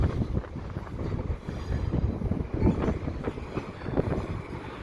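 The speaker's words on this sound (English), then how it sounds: "They're breaking up the train." CPKC 112, an intermodal freight train, is broken up in the Lachine yard, giving a continuous low rumble with scattered clanks and rattles of railcars moving close by.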